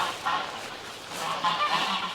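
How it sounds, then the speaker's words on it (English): Geese honk repeatedly from a short distance, a steady run of nasal calls rising into a louder cluster partway through, with no voices over them. "Let's walk away from the geese so they don't make such a ruckus"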